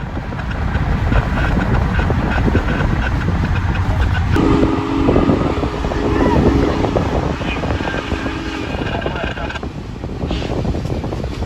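Union Pacific 4014 Big Boy steam locomotive rumbles past close by, a loud, steady rolling roar that fills the whole stretch, with a horn-like tone sounding midway.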